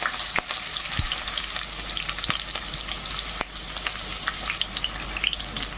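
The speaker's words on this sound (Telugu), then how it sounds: "వేపుకున్నాక ఈ ఆనియన్స్ కూడా ఇలా వేసుకోవాలి." Onions frying in hot oil along with chicken pieces give a steady close sizzle and crackle throughout, broken by a few sharp clinks and scrapes of a stirring utensil against the pan.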